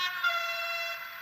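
A short, bright electronic horn toot from a Roco model train locomotive, one clean sustained tone lasting about a second, close and alone without any talk.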